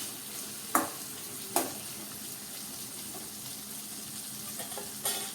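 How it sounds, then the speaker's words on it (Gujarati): Chilies and salt stirred and heated in a pan, a soft steady sizzle broken by a few sharp scraping taps of the spoon, close and quiet, with no talking. "આપણે મીઠાને મરચાં સાથે સારી રીતે મિક્સ થવા દઈએ અને થોડી વાર ગરમ થવા દઈએ"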